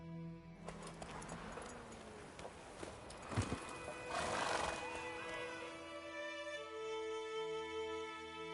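Horse hooves clip-clop at a gallop in a fantasy video game, a steady rhythmic clatter with a whinny partway through, set against game music and ambient sound.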